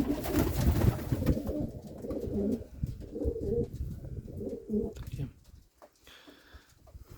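Pigeons in a dovecote coo in repeated throaty phrases, close and clear, fading toward the end as a few softer sounds remain.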